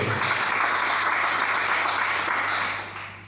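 A church congregation breaking into applause, thick continuous clapping at full strength that starts to thin and fade toward the end, with no one speaking over it.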